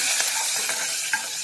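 Whole cumin seeds sizzle in hot oil for a potato tempering, a brief, dense, close hiss with a few light crackles and stirring scrapes.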